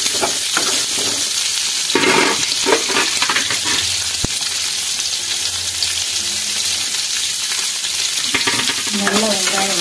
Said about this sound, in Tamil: வெங்காயத்தை வதக்கிடலாம். வெங்காயம் வதங்கிடலாம்.